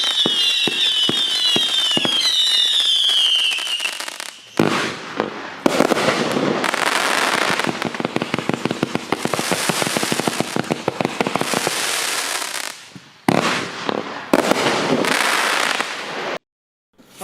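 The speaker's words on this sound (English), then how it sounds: "Now, this is a 100-shot barrage finale cake." A 100-shot barrage finale cake firework erupts with rapid, dense volleys of crackling bursts and pops, preceded by whistling launches, continuing loud and close for over ten seconds before tapering off.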